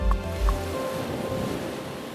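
Open-ocean waves wash and surge around a sailing ship, a broad steady rush of water with wind, with two soft low thumps near the start.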